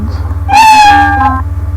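A single synthesized cartoon cat meow plays from the Scratch programming tool, clear and close, rising then falling over about a second against a faint steady hum.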